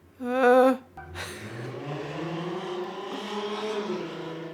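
A car outside revs hard in a short burst, then speeds away with a long, wavering engine roar that carries on at moderate distance.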